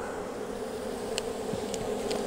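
Honeybees buzz and fan at a restless hive, a close, steady droning hum with a few individual bees zipping past, faint overall and without any voices.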